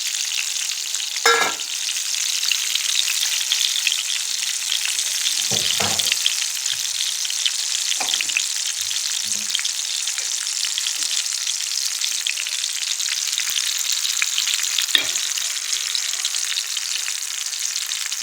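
Steady, busy sizzling of oil frying a batch of beguni (battered eggplant fritters) in a pan, with occasional clinks and stirring sounds breaking through, fairly close and without speech.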